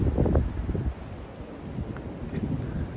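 Cold wind blowing outdoors on a dark hillside by a fire pit, a steady low rushing gust that buffets the microphone, stronger at first and then easing to a softer rumble, with no talking.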